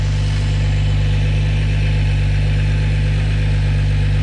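A 700-horsepower car engine runs steadily at idle, loud and close with a constant low drone, while its fuel injectors are checked for proper pulsing.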